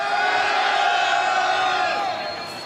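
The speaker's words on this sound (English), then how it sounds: "If you're in Hall B, let me hear you scream." A packed Hall B audience at CitizenCon 2954 screams and cheers in a loud, continuous crowd roar with yells and whoops, then fades slightly at the end.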